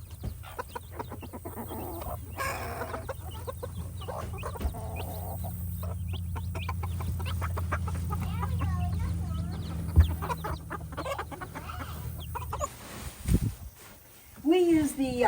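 Several chickens cluck and murmur nearby over a low background hum, with scattered louder squawks toward the end.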